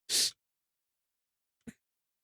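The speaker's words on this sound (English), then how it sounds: "I knew I was going to sneeze." A single sharp sneeze up close, followed after a pause by a brief faint breath or sniff.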